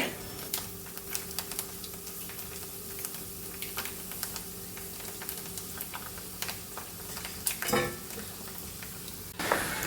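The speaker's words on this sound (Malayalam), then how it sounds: "ഇനി അരിമണി നന്നായിട്ട് പൊരിയട്ടെ" Raw rice grains frying in oil for red cheera thoran, a quiet, continuous sizzle with scattered sharp ticks and pops, plus a couple of louder clatters near the end.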